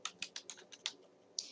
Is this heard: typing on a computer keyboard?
yes